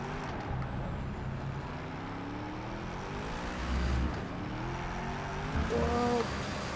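A Hennessey Venom F5 road car engine in the Project Cars 3 racing game, droning steadily up close, its pitch climbing and falling through gear changes, with a sharper rev surge near the end.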